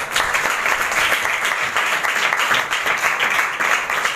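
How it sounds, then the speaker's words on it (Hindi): Loud applause from a church congregation at a Feast of Tabernacles gathering, a thick, sustained wash of many hands clapping at once, even in level from start to finish and heard on its own. "मसीह के लिए जोरदार तालियां।"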